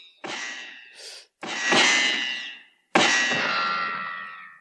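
Three sharp metallic gunshot sound effects, played from a sound-effects machine, with long ringing tails, separated by short gaps, loud and close, with no talking.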